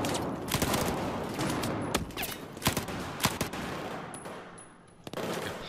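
Gunfire from an inaccurate weapon in the video game Battlefield 4, heard as rapid bursts of sharp shots in irregular clusters, loud and close, with brief lulls between volleys.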